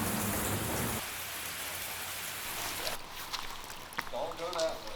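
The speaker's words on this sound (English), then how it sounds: "we're just waiting out the rain in this building." Rain falls outside a building at Dockery Farms in Cleveland, Mississippi, a dense hiss of drops that drops off partway, leaving lighter patter and some nearby movement noise.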